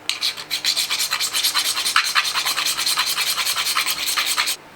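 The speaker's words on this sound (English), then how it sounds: "now I'm basically filing the top of the top cap down" A hand file rasps back and forth across a chrome BMX top cap bolt in quick, even strokes, close and crisp, about twenty rhythmic passes with no talk.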